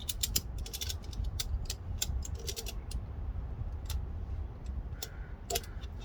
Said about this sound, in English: And then just go ahead and use the tensioner.